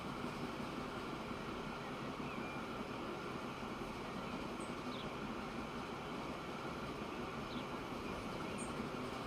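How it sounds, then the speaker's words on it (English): Passenger train in the video game Transport Fever 2 rolling past on an adjacent line, a steady, continuous rumble and wheel noise with faint high squeaks, at an even moderate level throughout, no talking. "Passenger train going the other way."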